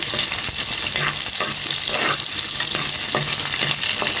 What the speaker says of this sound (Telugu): సో ఇప్పుడు ఆనియన్స్, పచ్చిమిర్చి అయితే యాడ్ చేస్తున్నాము.